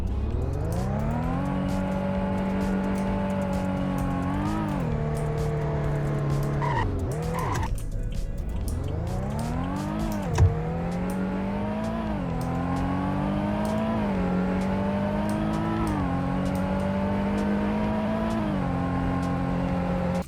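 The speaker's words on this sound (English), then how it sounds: "I'm just going to give you guys a little brief overview of what this car actually sounds like." An Infiniti G35's engine revs up and down through rising gear pulls while driving, loud and close, with a brief dip in the middle before climbing again; no talking.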